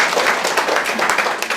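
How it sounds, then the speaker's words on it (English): A seminar audience applauds a real estate speaker, a dense, loud wash of clapping that stays steady through the short burst. "You can clap for that."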